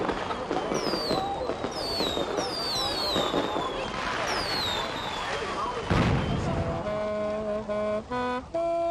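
Fireworks crackle and whistle at a New Year's Eve bonfire in Þórsmörk, with rising whistling rockets and bursts over crowd noise, followed by sustained saxophone notes near the end.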